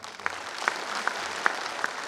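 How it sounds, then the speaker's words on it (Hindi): Audience at a Hindi comic poetry recital in Ahmedabad gives a short round of applause, steady clapping with a few sharper claps standing out, moderately close. "सभी लोग अपने लिए कृपया तालियां बजाएं"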